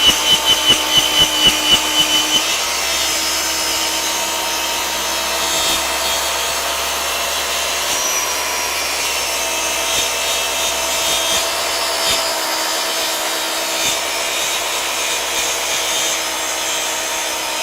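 A track saw fitted with a crosscut blade rips through wood for drawer fronts on a lathe cart, a loud, continuous whining roar that follows a few brief knocks at the start.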